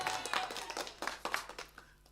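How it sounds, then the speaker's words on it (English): Audience applause at a jazz show, a scattered patter of hand claps that rises and thins over two seconds, moderately close, with no talking. "And thank you for clapping."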